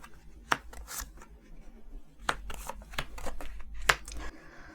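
Tarot cards are shuffled and drawn by hand in a quiet room: soft papery rustling broken by three sharp, crisp snaps of the deck, spaced a second or two apart.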